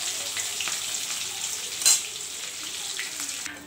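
Prawns and bitter gourd fry in hot oil, giving a continuous close hiss and crackle with a brief louder sputter midway as pieces are turned, with no talk.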